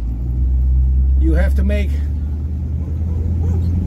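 A 1960s Cadillac rumbles low and steadily while driving, and someone talks briefly over the engine drone.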